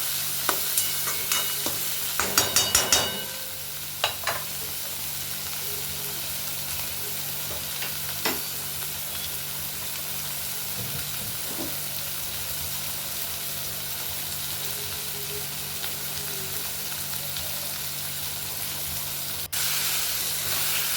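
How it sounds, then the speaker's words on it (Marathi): Onion and tomato for brain chutney sautéing in a little oil, a steady even sizzle throughout with a cluster of sharp spoon clatters early on and occasional faint scrapes. "थोड्या तेलामध्ये परतून घ्यायचा छानपैकी"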